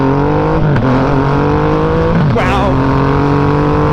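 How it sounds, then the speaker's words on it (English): A Triumph Rocket 3 motorcycle engine runs loud and close, and its tone swells twice as the throttle is blipped. A person lets out a short exclamation over the roar. "This is the second generation of the legendary Triumph Rocket 3, and it is one of the coolest motorcycles"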